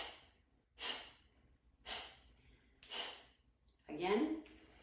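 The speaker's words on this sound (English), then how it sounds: "we're gonna breathe in the nose and do 4 forceful exhales out through the nose" Four forceful nasal exhales during a guided breathing exercise, each a short breathy burst roughly a second apart, followed by a longer voiced breath at the end; close and moderately loud.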